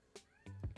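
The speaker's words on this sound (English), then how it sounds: "Mushu, meowing, I hear you." A cat in a video game meows briefly, with a short high mew followed by two quick, louder, whining meows within under a second.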